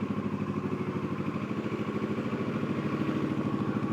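A motorcycle engine idles steadily up close while the bike is being parked outside, a continuous low rhythmic putter with no talk.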